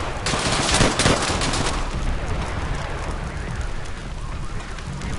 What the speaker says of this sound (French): Mitrailleuse japonaise!